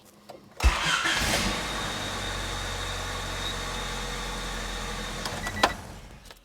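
A 1993 Honda Civic DX cranks briefly and fires up after an oil change, then settles into a steady low idle close by, ending with a short blip and clatter as it runs for a few seconds.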